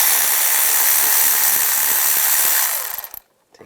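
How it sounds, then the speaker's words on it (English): A 10mm socket loosens the ground-wire bolt on a 1996-2002 Toyota 4Runner engine during knock sensor replacement: loud, close, rapid ratcheting over a hissing wash of noise, cutting off abruptly near the end. "We're going to use a 10mm socket."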